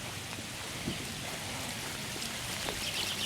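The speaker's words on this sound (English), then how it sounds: "It's starting to rain again." Rain falls steadily on a campground near flooding Rock Creek, making a soft, even hiss of drops with occasional closer patters, fairly quiet and with no voices.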